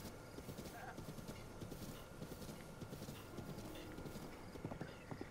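Horse hooves clip-clop steadily through Zelda Breath of the Wild, a continuous trotting rhythm at moderate level over a busy game soundscape, with an occasional whinny and faint talk underneath.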